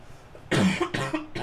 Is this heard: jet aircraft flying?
no